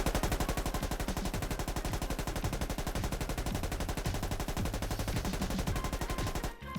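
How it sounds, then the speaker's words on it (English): Rapid sustained machine gun fire from a single gunner in the video game Squad, loud and continuous with dense rhythmic bursts for about six seconds before cutting off abruptly. "We have 1 machine gunner. And open fire!"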